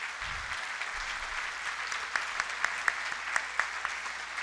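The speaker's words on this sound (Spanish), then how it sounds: "quisiera pedir un aplauso para todos nosotros" Moderate audience applause at a Labour Day awards event, a steady patter of many hands with a few sharper individual claps standing out, heard at some distance.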